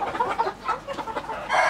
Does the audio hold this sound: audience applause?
no